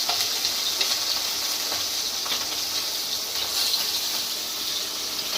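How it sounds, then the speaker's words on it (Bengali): Tangra fish frying in hot oil, a steady dense hiss and crackle that holds evenly throughout, fairly close, with no voices over it. "আর লাস্ট যে মাছগুলো বেঁচে আছে সেগুলো কিন্তু ভাজা চলছে"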